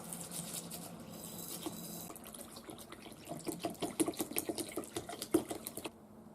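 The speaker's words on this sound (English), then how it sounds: "And then I get my water, pour it in" Water pours into a bowl of buckwheat, a soft continuous trickle that turns into quicker patters and splashes near the end, close and fairly quiet.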